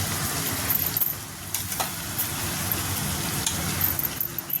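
Ground green masala paste frying in oil left over from browning chicken, giving a dense steady sizzle and hiss with occasional metallic scrapes and clinks from stirring, close and fairly loud.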